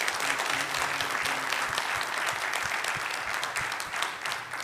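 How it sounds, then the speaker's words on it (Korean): A seminar audience at a Korean preaching forum claps steadily to thank Pastor Kim Dong-ho, a dense, even wash of clapping with no voices over it. "우리 김동호 목사님 다시 한번 박수로 감사합니다"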